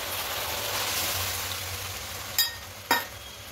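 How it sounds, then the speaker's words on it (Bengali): Soya chunks sizzle steadily in a pan for chilli soybean, with two sharp bursts of louder hissing as rinse water from a sauce bowl is splashed in. "এবার বাটি ধুয়ে, সসের বাটি ধুয়ে জলটা এখানে দিয়ে দেবো।"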